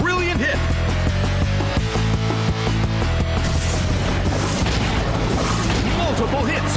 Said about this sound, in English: Multiple hits. It keeps dealing damage.